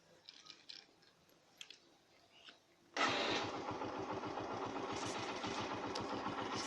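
A Yamaha SS125 motorcycle engine starts abruptly after a quiet stretch of faint clicks, then settles into a steady, close, rhythmic idle at 1000 rpm.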